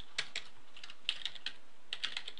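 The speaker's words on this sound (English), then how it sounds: "Gotta type that slow so I don't mess it up." Keys clatter on a computer keyboard as Java code is typed slowly, in three short bursts of close, crisp keystrokes with brief pauses between them.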